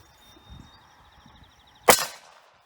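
A single sharp 9mm Makarov gunshot fired at a Czechoslovakian Vz.52 steel helmet cracks loudly outdoors after a quiet stretch with faint background noise, then decays quickly.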